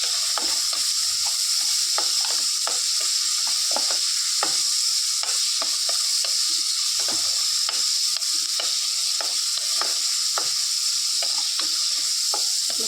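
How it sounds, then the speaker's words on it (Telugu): Dried fish and tomato curry ingredients fry in hot oil, a steady bright sizzle running throughout with frequent sharp scrapes and clicks of a spoon stirring the pan, close and continuous with no voices. "వేసి మంచిగా ఫ్రై చేసుకోవాలి ఫ్రెండ్స్"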